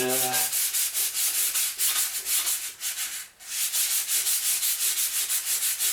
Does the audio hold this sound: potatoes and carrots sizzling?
no